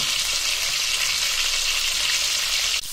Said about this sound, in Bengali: মাছের মাথা টক ঝোল করার জন্য আমি মাছের মাথাগুলো তেলে ভেজে নিচ্ছি আগে।